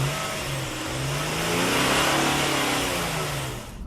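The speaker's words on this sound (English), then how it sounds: "326 brake horsepower V6 one of the most glorious sounding engines in modern production?" Nissan 370Z Roadster's 326 bhp V6 revving with the top open, a rising and falling engine note with climbing harmonics that swells to a peak and fades, heard alone and fairly close.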